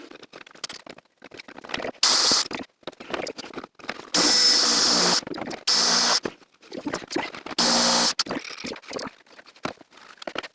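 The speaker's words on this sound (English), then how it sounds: "It's because my drill was on backwards." A power drill running in reverse whines in several short bursts of a second or so, loud and close, with quieter handling noise between them, while building a toy chest.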